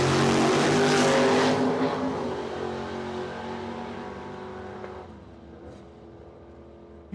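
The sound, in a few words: drag racing cars, Camaro, launching down the quarter-mile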